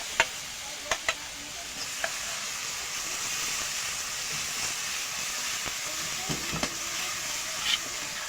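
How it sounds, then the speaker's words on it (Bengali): Onion and garlic paste frying in a pan: a constant soft sizzle and hiss with scattered sharp clicks of a spoon stirring against the pan, close and fairly quiet, with no talk. "নাড়াচাড়া করে একটু ভেজে নেব।"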